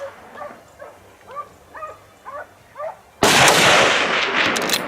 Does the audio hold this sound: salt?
no